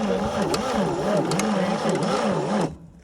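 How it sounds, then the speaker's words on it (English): A 1940 Chevy truck engine runs with a wavering, buzzy idle, its dipstick shaking as the crankshaft hits it, loud and close before the sound cuts off abruptly near the end. "I don't know why that dipstick's giving it a shake"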